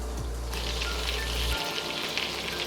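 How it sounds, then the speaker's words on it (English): Breaded chicken Kiev fries in a pan, a steady close sizzling hiss that carries on without pause, with a low hum beneath it for the first part. "we'll fry the chicken off so we get a bit of colour on the breadcrumbs"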